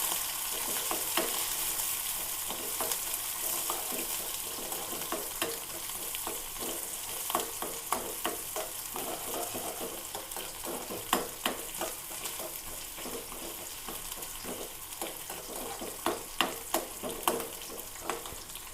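Chopped onions, five or six of them, sizzle steadily in a hot pan with mustard seeds, punctuated by frequent sharp scraping clicks of stirring, continuous and fairly close with no talk.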